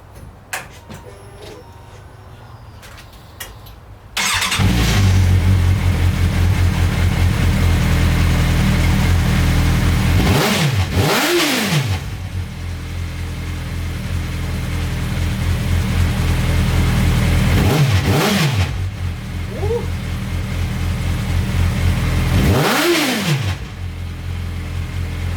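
An off-road buggy engine catches after a short quiet spell and runs loud and close, rising in several distinct revs with sweeping pitch changes over a steady rumble.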